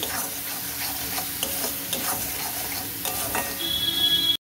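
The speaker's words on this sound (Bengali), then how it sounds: "এটাকে ভালো করে কষিয়ে নেব।" Spice masala fries and is stirred in a pan for a paneer and green peas curry, with a steady hiss of sizzling and scraping stirs throughout, ending in a brief thud.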